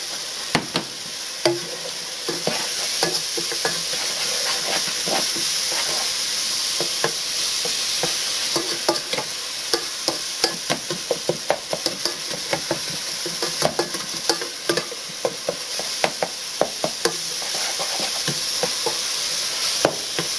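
Lean beef frying in oil in a pan for a tomato meat sauce, a loud continuous sizzle and crackle close up, with frequent sharp pops and occasional utensil clicks throughout.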